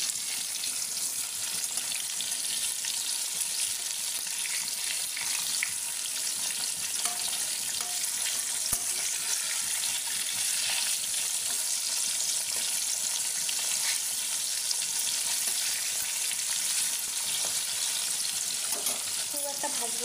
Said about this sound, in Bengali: খুব একটা ভাজবো না ইলিশ মাছটা।